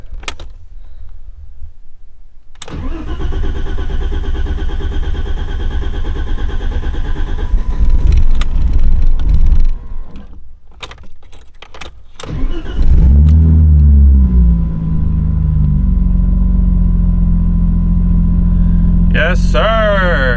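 A BMW E30 engine cranks and fires after a fuel hose repair, then settles into a steady, loud idle with a brief rev, up close, while a few voices talk over it.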